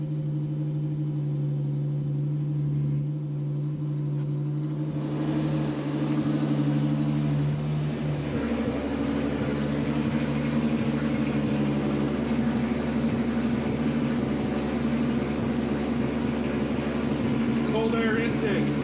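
A 12V VR6 turbo MK2 Jetta idles after a cold start, a steady low engine rumble with a faint whine that roughens and grows fuller after about five seconds. A voice talks faintly in the background now and then.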